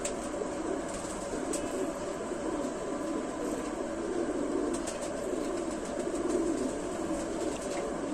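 Old Sialkoti pearl-marked (motiyon wale) high-quality pigeons cooing in a loft, a steady murmur of soft coos filling the background at moderate level with no talk.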